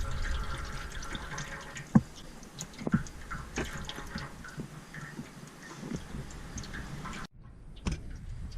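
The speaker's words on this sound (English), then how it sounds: "The radiator's just about finished draining out." Coolant draining out of the radiator on a Kubota BX tractor during a coolant change, a steady faint trickle and drip of liquid with a couple of soft ticks, no talking.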